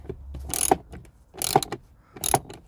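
A ratchet driving a Torx bit undoes the glove box screws in a Vauxhall Corsa D, giving three separate close bursts of quick metallic clicking with short pauses in between.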